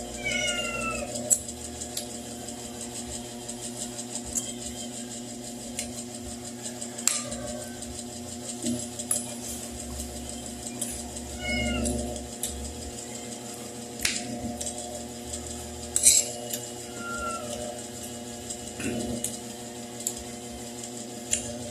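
A hungry cat meows repeatedly over roughly twenty seconds, with scattered close calls and some drawn-out, wailing ones over a steady background hum. Nobody talks.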